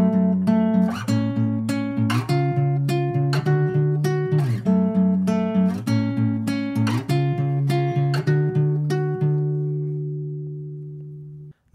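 Electric guitar plays the chord progression of a song, a steady run of plucked chords with clear attacks, ringing alone and fading out on a sustained final chord.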